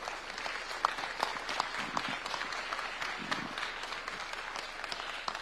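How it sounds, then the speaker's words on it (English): Standing audience at a Jamhuri Day event at KICC in Nairobi gives a hand clap to welcome an ambassador, with steady, moderately loud applause throughout and a few sharper individual claps standing out. "May we all stand with a hand clap to invite His Excellency"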